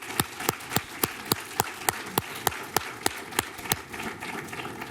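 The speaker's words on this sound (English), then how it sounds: "A round of applause for the governor." Rhythmic clapping honours a governor at a bill-signing event, with sharp claps at an even, steady pace, fairly faint and without speech.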